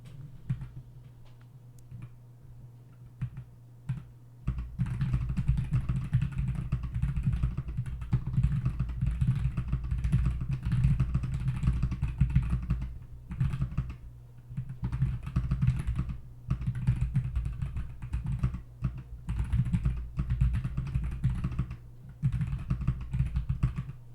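Fingers tap rapidly across a computer keyboard in bursts, with brief pauses between runs of clicking keys, close and moderately loud.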